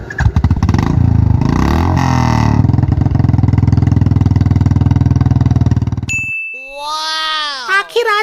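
Cartoon Bullet motorcycle, new for Dhanteras, self-starting with a loud steady engine chug running for about six seconds, then cut off as an animated voice speaks.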